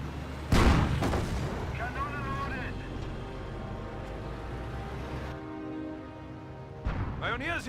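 Mortar shells firing and exploding in Company of Heroes, a sharp heavy boom early, then rumbling battle noise and a second burst of impacts near the end, with a voice talking over the din.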